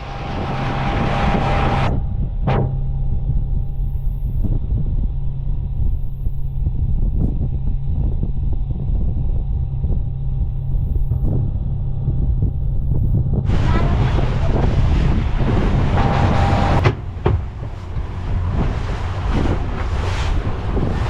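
Boat ride at sea off Phuket heading to Koh Lon, with loud steady engine and hull rumble, heavy wind buffeting the microphone, and rushing water as waves break into white foam, continuous throughout.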